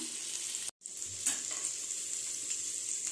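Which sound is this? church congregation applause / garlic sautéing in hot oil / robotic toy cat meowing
garlic sautéing in hot oil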